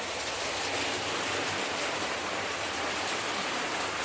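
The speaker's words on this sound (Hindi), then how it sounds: "बारिश रुकने का नाम ही नहीं ले रही है" Heavy monsoon-style rain pours down in a dense, continuous hiss, loud and unbroken throughout with no voices.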